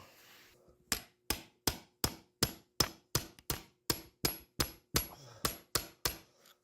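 A hammer drives a punch through the casing of a Williams Pitch & Bat arcade game, with about fifteen sharp, evenly spaced metallic strikes ringing out loud and close, each one decaying quickly.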